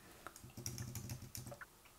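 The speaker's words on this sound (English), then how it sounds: "I'm going to press Alt on my keyboard." A computer keyboard being typed on while editing a photograph, a quick run of close, soft key clicks and taps with no talking.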